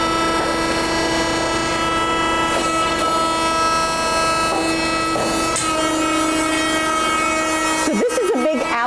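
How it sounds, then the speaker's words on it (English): An alligator shear machine trims the ends off plastic scrap, giving a steady loud mechanical grinding and rasping drone with strong tonal hum throughout, ending in a brief jumble of clanking near the end. "Alligator shear, and it actually trims off the ends"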